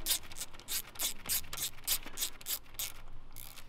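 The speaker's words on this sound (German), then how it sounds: "Das ganze Gelasch wieder festschrauben." A ratchet tightens the M6 screws holding the ignition coil on a 1.8-litre Audi A3 8L engine, a quick run of about a dozen crisp, evenly spaced clicks, close up with no talk.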